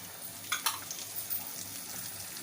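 Cumin seeds with coriander powder, chili powder, fennel and turmeric fry in hot oil for a sweet raw-mango and jaggery pickle, giving a soft, low sizzle broken by a few brief scraping stirs near the start.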